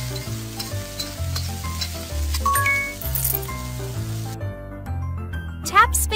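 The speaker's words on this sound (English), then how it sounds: "Mix everything together." Cartoonish cooking-game sounds of stirring and sizzling while mixing ingredients with pepper, with chirpy musical tones and a rising sparkly effect near the end; no speech.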